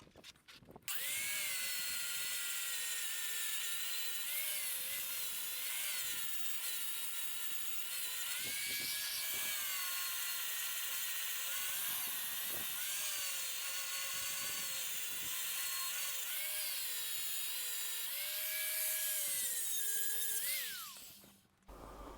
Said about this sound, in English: I'll grind up where I need to grind, ready to get it welding.